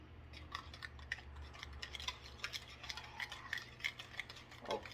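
Quiet scraping and clinking of a utensil stirring seasoned chicken inside an Instant Pot, a run of soft irregular taps and scrapes close by with no talking.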